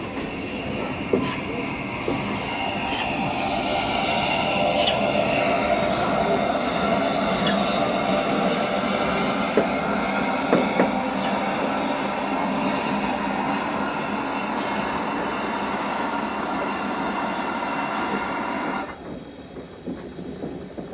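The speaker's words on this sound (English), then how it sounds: "now watching the engine shunting backwards and forwards here at Gromont Station" At Grosmont Station a train engine shunts back and forth, a sustained rumble of rolling wheels, hiss and faint squeals heard at moderate distance, with a brief low voice near the end as the noise drops away.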